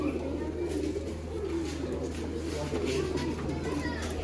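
Sialkoti pigeons of a well-balanced pair coo softly in a steady low murmur, with someone talking over them throughout.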